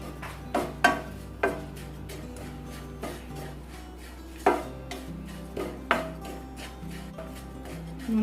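Chili and coriander powder are stirred and fried in a pan for a chicken curry, with a spoon scraping and knocking against the metal in irregular, close strokes over a quiet background hum.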